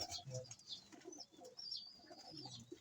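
Pigeons of the Sablon line cooing in a loft, with soft repeated low coos and some higher chirps throughout, fairly faint against background noise.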